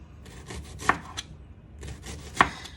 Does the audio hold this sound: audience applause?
no